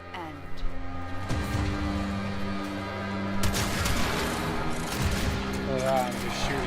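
Gunfire in the sci-fi action game Warframe, with dense rapid shots and impacts over a droning game soundtrack, loud and continuous.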